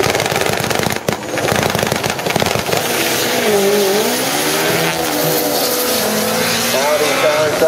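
An Audi drag car makes its run at a drag strip, finishing at about 156 mph, with a loud, steady engine roar that rises in pitch through the gears. A commentator talks over it.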